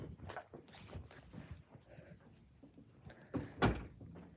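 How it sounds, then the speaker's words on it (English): A bedroom door comes open with a muffled thump and knock amid shuffling indoor noises, close and moderately loud. "my door got open"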